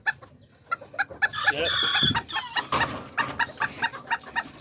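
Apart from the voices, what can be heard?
kikiriki and Azteca chickens and roosters clucking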